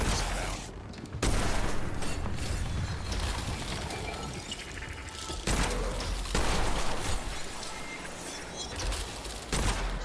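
Enemies shooting in the Witchfire video game, heard as loud, dense volleys of gunfire in several bursts with mechanical clanks between them.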